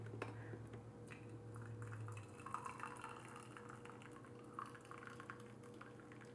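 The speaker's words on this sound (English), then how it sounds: "Okay, we add some hot water." Hot water is poured onto Keemun black tea from Huangshan, a faint, steady trickle and soft splashing close by with a low hum underneath.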